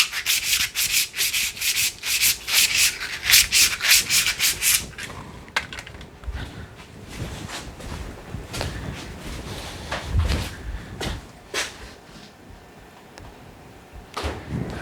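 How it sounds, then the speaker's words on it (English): Sandpaper rubbed briskly over steel bar stock before forging a square nail, a rapid run of close, loud rasping strokes for several seconds, followed by quieter scattered scuffs and handling noises. "I always like to run some sandpaper over the stock material."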